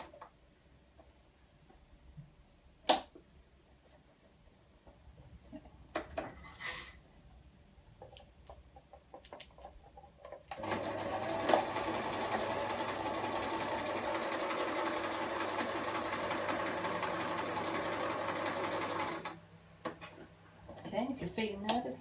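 A sewing machine runs steadily for several seconds, backstitching around the face of a plush toy, with quiet talk and small handling clicks before it starts and a brief pause near the end.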